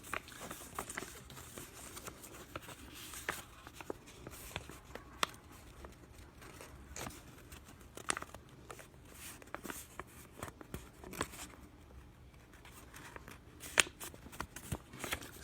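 Paper being folded by hand, its four corners creased in toward the center, giving soft rustling, crinkling and scraping that runs steadily throughout, with occasional sharper pats as folds are pressed flat.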